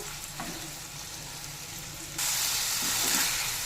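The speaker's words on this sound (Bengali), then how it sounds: "ভালো করে একটু চালটা নেড়ে চেড়ে একটু ভেজে নেব" Basmati rice sizzles steadily as it fries with salt in a pan for saffron pulao, a continuous close hiss that swells louder and brighter partway through, as if stirred, with no voices.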